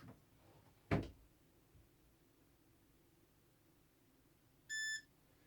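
A digital scale gives a short electronic beep once, clear and close, after a quiet stretch with a soft thump near the start.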